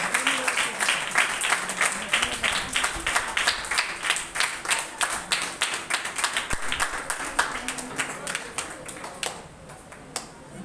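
An audience at a VBS program claps for a child, steady dense applause that stays loud and close throughout before easing slightly at the end, with a voice briefly over it.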